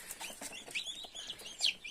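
Newly hatched chicks of mixed breeds peep softly in a box beside an incubator, a quick run of high faint chirps with no talk.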